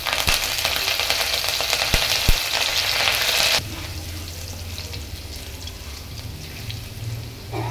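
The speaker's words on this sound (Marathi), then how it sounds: "तेल गरम झालेलं आहे। मी आता थोडंसं जिरं टाकते।" Cumin, crushed garlic and curry leaves sizzle in hot oil for a masala okra dish, a loud bright crackle with a few sharp pops that drops suddenly to a quieter low simmer partway through, with no speech.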